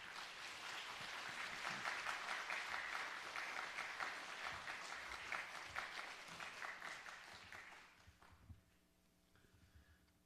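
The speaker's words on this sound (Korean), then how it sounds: "목사님 나오실 때 우리 큰 박수로 모시겠습니다." A church congregation gives a long, dense round of applause as the pastor comes forward, quiet and distant, tapering off after about eight seconds into scattered claps and room noise.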